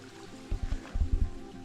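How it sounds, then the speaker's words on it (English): A small creek on the Appalachian Trail runs with a soft, steady trickle, joined by a few low thumping steps or bumps close by, with no talking. "Nice little creek."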